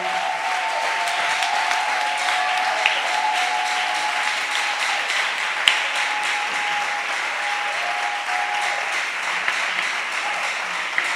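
A church congregation applauding at a thanksgiving service, a sustained even wash of many hands clapping, moderately loud and steady, with a faint tonal hum running underneath.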